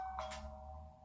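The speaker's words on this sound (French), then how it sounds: "Là, c'est une sonnette toute simple." A simple doorbell rings indoors, one short chime near the start over a low steady hum, fairly faint.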